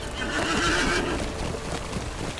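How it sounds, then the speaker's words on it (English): An Eriador horse in the online game Lord of the Rings Online gives a loud, close whinny lasting about a second, backed by clip-clopping hooves and ambient game sound. "We'll go ahead and hop on my Eriador horse."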